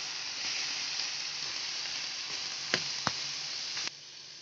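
String beans sizzle steadily in a hot pan with garlic and mussels, a continuous bright frying hiss with a few sharp clinks of a utensil against the pan near the end.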